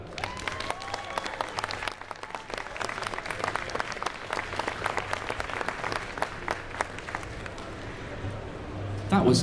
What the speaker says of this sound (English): That was as big a clap and cheer as any of the drivers we've had.